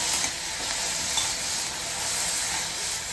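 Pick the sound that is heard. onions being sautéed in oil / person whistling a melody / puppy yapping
onions being sautéed in oil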